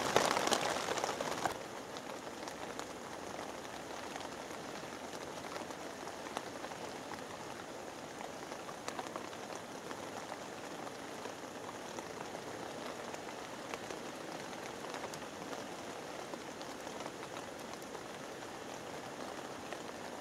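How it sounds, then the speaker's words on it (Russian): Steady rain falls along a mountain road in the Altai, a dense, even hiss of drops that holds for about twenty seconds, slightly louder at the very start, with no voices. "Идет дождь."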